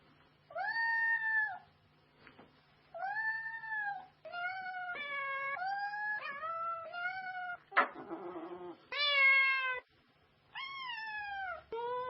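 A cat meows repeatedly while being cuddled, a series of clear, fairly loud drawn-out meows with short pauses between them and occasional struggling noise.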